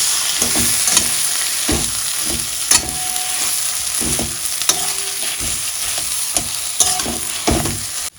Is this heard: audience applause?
no